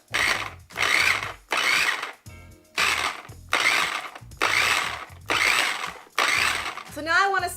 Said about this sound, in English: now we're going to put on the top and mix it all up